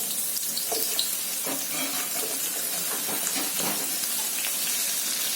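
Chopped onions sizzle and crackle in hot oil in a pan, a steady, bright hiss with small pops running throughout, close and fairly loud with no talking.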